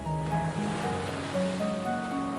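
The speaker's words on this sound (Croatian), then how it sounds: "More je sada bilo već jako uzburkano." Rough, churning sea surf washes in a continuous rushing swell, fairly faint, with soft sustained musical tones layered underneath and no voices.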